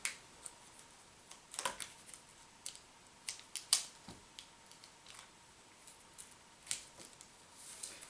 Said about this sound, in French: J'essaye d'ouvrir le sachet en question.